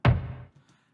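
A single deep, resonant drum hit like a tom, with a sharp attack and a short decaying body, heard alone.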